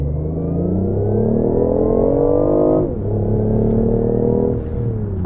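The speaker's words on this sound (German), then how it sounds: "Sportgasse rein, Soundakkurator kommt, ich gebe Gas." A 2020 BMW i8 in sport mode accelerates hard with synthesized engine sound, its note climbing steadily, dropping briefly at a gear shift, then rising again, loud and close with no voices.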